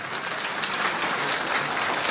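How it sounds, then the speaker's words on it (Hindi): A crowd at a Hindu Panchayat gathering in Punjab claps steadily, a dense, continuous wash of applause heard alone at moderate volume. "तालियां बजदियां ने"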